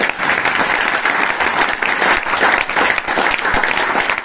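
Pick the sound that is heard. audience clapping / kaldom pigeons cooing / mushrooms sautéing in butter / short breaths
audience clapping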